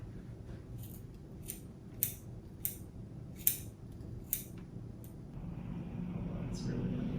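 Sharp scissor snips cutting hair, about half a dozen crisp clicks spaced roughly a second apart, close and clear over a low room hum that grows louder near the end.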